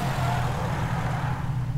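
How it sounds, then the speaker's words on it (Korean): A motorcycle engine in a battle royale shooter runs at a steady low drone, an even continuous rumble with no speech over it. "오토바이, 오토바이 타자"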